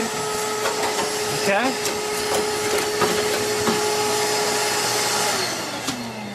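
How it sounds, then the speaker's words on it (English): A vacuum cleaner hose works inside the drop tube of a Bixby pellet stove, a loud steady whine with scraping and knocking as the nozzle moves, dropping off near the end; a voice speaks briefly. "Now let's go up into the drop tube. Vacuum that out nice and good."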